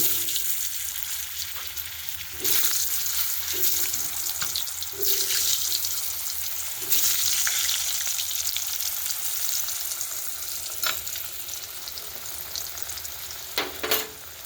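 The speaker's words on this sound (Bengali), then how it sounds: "একটু নুন আর হলুদ দিয়ে আর আলুগুলো ভেজে নেব" Potatoes fry in hot oil with salt and turmeric for a mustard chicken curry, giving a loud, continuous sizzle with occasional stirring scrapes and bursts.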